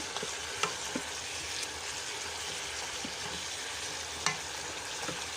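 Onions sautéing in hot oil for kabsa, a steady broad sizzle with occasional stirring clicks and scrapes in the pan, close and continuous, with no talking.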